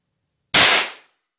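A single sharp, loud crack as a percussion cap is fired in a Liegi Derringer pistol, close by, fading quickly into silence.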